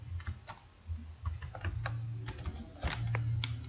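Computer keyboard being typed on as a phone number and password are entered, a quick irregular patter of soft key clicks, close and quiet.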